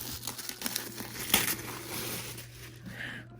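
Paper crinkles and rustles up close in quick, irregular bursts, with one sharper crackle in the middle, then softer handling fading out.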